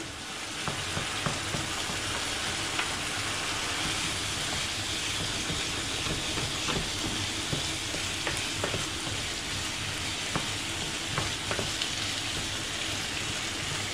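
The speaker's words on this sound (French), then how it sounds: "Là c'est pour un peu faire cuire l'ail." Garlic sizzling in a hot pan alongside pigeon meat, a loud, constant close-up frying hiss with faint crackles and occasional stirring scrapes, no talking.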